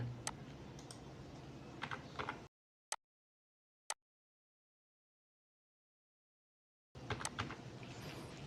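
Keys clatter on a computer keyboard while a date of birth is entered, with quick clusters of taps, a couple of isolated clicks, and a long silent gap in the middle.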